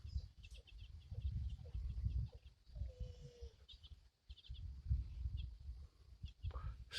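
Young chickens cluck and cheep intermittently nearby over steady low rustling, their calls scattered across the stretch with a short quiet gap midway.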